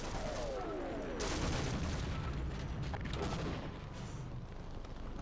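Grenade blasts tearing apart a turret in Half-Life, a dense rumbling barrage of booms and crackling debris that swells, holds loud and then thins out, with no voice over it.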